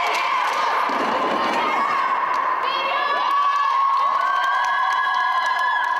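Girls' voices cheering and shouting in an indoor gym at a youth basketball tournament, a dense continuous crowd roar with high excited calls rising above it.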